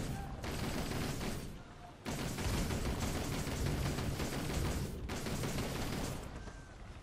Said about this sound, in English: I'll just go back to the easy machine gun.